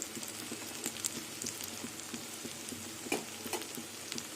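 Malabar spinach and split pea fritters sizzling in hot oil, a steady close crackle with scattered sharper pops and one louder spatter, no voices.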